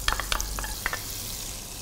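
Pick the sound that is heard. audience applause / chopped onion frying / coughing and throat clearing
chopped onion frying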